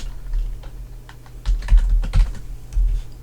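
Keys clatter on a computer keyboard in short irregular bursts, close and clear, a quick run of taps with small pauses between them and no voices.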